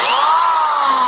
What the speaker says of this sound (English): runs the hammer drill just fine